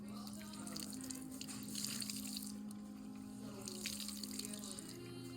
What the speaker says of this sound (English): I want to make sure I get a lot of that water out.